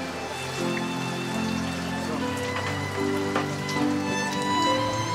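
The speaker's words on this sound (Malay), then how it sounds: "setiap kali hujan turun bumbung mengalami kebocoran" Rain falls steadily on the leaking roof of an old, run-down house, making a continuous patter and drip with a low rumbling wash underneath and no voices.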